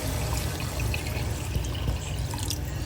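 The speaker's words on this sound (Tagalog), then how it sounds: "Ilalagyan ko na siya ng tubig." Water pours steadily into a cooking pot holding garlic and beef, a continuous close splashing trickle that runs unbroken and alone, with no talk over it.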